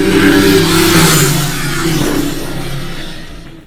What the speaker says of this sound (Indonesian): menjadikan suara knalpot baru lebih senyap